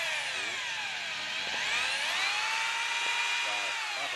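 A two-function hammer drill runs continuously, a loud high whine that rises and falls in pitch as it spins, close by with faint background sounds.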